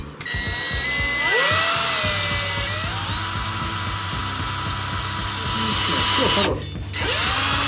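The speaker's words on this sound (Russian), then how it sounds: "теперь вторую сверли так же." A power drill whines loudly close up while boring into wood for homemade stilts, its pitch dipping under load, stopping briefly before spinning up again; a voice speaks briefly.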